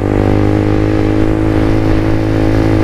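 A Suzuki GSX-R 150 motorcycle engine runs steadily and loud up close, a constant even drone with no voices.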